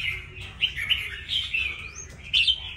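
Red-whiskered bulbul (chào mào), a wild-caught bird, sings a lively run of bright chirping phrases with repeated doubled notes, close and clear over a low steady background rumble.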